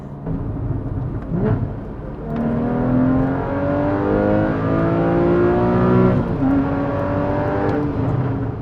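A 2016 Porsche Cayman GTS engine revs hard and climbs high beyond 5,000–6,000 RPM, its pitch sweeping upward in long sustained pulls, loud and close with no voices.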